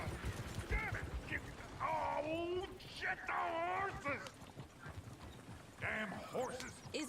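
Horses clip-clop and gallop in the Western video game Red Dead Redemption 2, their hoofbeats rhythmic and moderately close while voices talk over them for most of the stretch.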